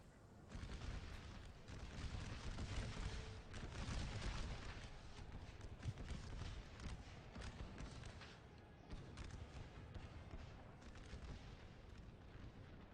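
Rumbling, crackling volleys of artillery and musket fire roll continuously across a battlefield in an American Civil War strategy game, heard as a dense, distant-sounding barrage.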